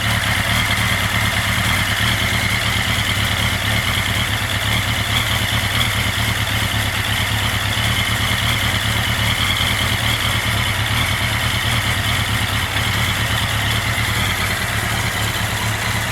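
A 1983 Honda Nighthawk 650 motorcycle with four carburetors idling nearby, a steady loud rumbling drone that holds even throughout without revving.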